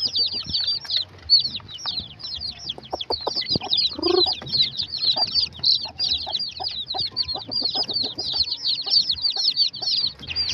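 Young chicks peep in a dense, continuous high chorus, with soft low clucks and scratchy rustling close by underneath, no voices.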